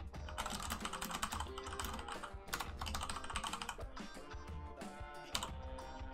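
Fingers type quickly on a computer keyboard, a dense run of soft clicking keystrokes in close, quiet bursts with brief pauses, no voices.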